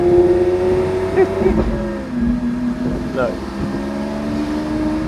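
A Lamborghini Aventador engine rumbles and revs in short bursts, a loud deep exhaust note rising and falling close by, with someone speaking briefly over it.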